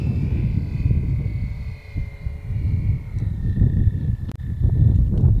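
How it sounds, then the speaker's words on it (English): A model airplane at a Design/Build/Fly competition throttles down for landing, its engine whine gliding slowly lower in pitch at a moderate distance under steady wind rumble. "Pilot pulling back the throttle, and of course we can hear it. It's very audible here."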